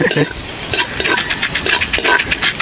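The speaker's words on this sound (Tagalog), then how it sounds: "Kasi yung kailangan i-fry talaga natin yung bawang para malabas yung bangon niya." Chopped garlic fries in a pan during outdoor cooking, giving a steady, close, loud sizzle with scraping stirs and light utensil clatter throughout.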